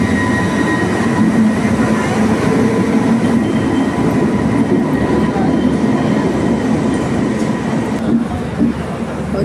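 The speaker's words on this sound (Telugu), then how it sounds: "ఆ ట్రైన్ అయితే వచ్చేసింది ఆఖరికి" A passenger train pulls in along a station platform, a loud, continuous heavy rumble with faint wheel clatter and a high squealing tone riding over it, filling the whole stretch.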